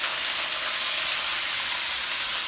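Green and red peppers sizzling in hot grease in a pan, a steady bright hissing fry that stays loud and even throughout with no one talking.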